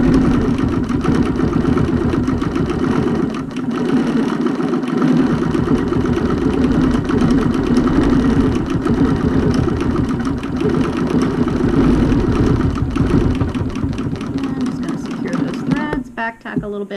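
A BERNINA Q 24 longarm quilting machine stitches in the ditch with a steady, continuous mechanical whir, loud and close, holding through most of the stretch before a brief stop and back tack near the end.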